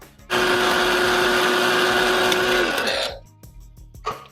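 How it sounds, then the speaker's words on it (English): An electric grinder whirs loudly and steadily as it grinds spices into jeeravan masala powder, then switches off and winds down. A few faint knocks and handling sounds follow. "grind it for about 2 minutes till you get a nice fine powder"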